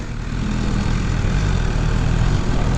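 A 2017 BMW S 1000 R motorcycle pulling away, a steady loud low engine drone that swells slightly as it gets under way, close to the microphone.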